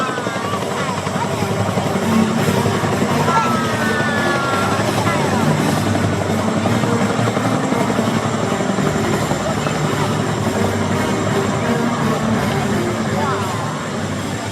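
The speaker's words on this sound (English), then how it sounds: "Now, ladies and gentlemen, watch the rear of the Chinook" A military Chinook transport helicopter of the air force drones loudly and steadily throughout, its heavy rotor thrum and engine whine continuous and close, with no break.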